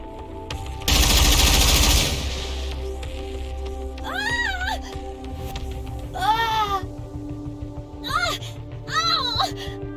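A roaring burst of gunfire in a video game, about a second long, erupts after a shouted order and gives way to warbling, bleating cries and a low hum in the background.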